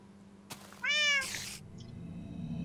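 A cat in Minecraft gives a single clear meow, one bright drawn-out call set between brief clicks and soft game ambience.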